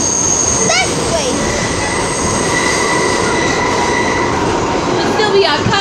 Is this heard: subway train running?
yes